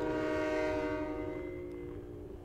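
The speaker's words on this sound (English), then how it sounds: "Train's coming!" Train passing in Silent Hill 3, a loud chord-like horn blast over rumbling rail noise that slowly fades as it moves off, with no voices.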